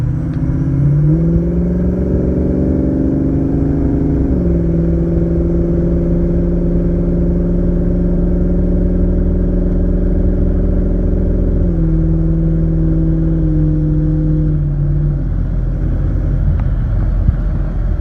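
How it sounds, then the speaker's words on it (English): A 2003 Ford 6.0 diesel pickup truck on a test drive after injector replacement, its engine droning steadily with clear gear-change shifts in pitch, continuous and close from the cab with road rumble underneath. "we're on the test drive and the truck seems to be running pretty good"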